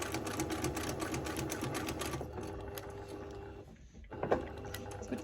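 A sewing machine free-motion quilting circles, its needle running in a fast steady clatter for about two seconds, then slowing and pausing before a brief restart near the end, close and alone.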